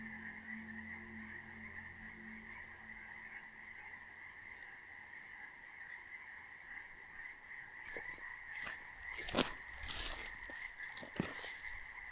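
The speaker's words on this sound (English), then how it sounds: "if you couldn't hear the frogs in the last couple clips, then you should definitely be able to hear them now" Frogs call near a pond in the Cascades, giving a faint, steady chorus of croaks at a distance with a few louder rustling bursts toward the end.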